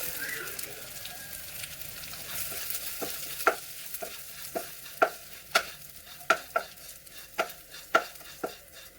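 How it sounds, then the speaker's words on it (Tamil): Flattened rice (poha) roasting in ghee for laddu, stirred with a spoon: a soft steady sizzle with sharp scraping clicks against the pan, growing more frequent and distinct in the second half, no talking. "இப்போ அதே நெய்யிலே நம்ம எடுத்து வச்சிருக்க அவலையும் நல்லா பொரியிற அளவுக்கு வறுத்து எடுத்துக்குவோம் ஃப்ரெண்ட்ஸ்."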